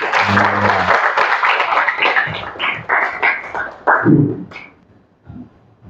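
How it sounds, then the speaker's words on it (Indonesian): Classroom applause for a student, with a burst of clapping that thins into scattered claps and fades out, mixed with a few voices and room noise. "Ayo, tepuk tangan."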